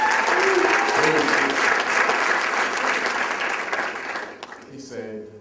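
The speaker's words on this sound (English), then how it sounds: "I'll give him another round of applause and all the other speakers that came up" An audience applauds the speakers at a business event, a dense, steady wash of clapping from many hands that fades out near the end as a voice begins.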